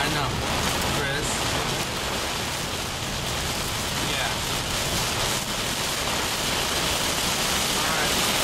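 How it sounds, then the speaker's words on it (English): Large hail pours down during an EF1 tornado storm in August 2009, making a dense, unbroken hiss and roar for several seconds, with one brief voice speaking over it. "We're starting to get hail. Large hail."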